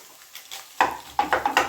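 Street-style fried rice with chicken being stirred and fried in a hot pan, quiet at first, then a loud sizzle with repeated scraping strokes of a spatula against the metal, close by and without talk.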